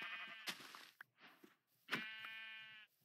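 Sheep bleat in Minecraft, two drawn-out, wavering calls with a short sound between them, clear and close with no talk.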